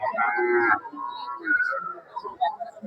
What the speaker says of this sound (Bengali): এই গরুর হাট এখানে দেখতেছেন তো কি একটা পরিস্থিতি